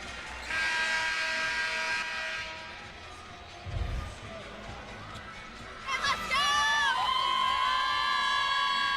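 A crowd at a college basketball semifinal in Sioux Falls between Fairmont State and Bellarmine cheers and shouts in bursts, rising again with whistles and whoops, heard from within the arena.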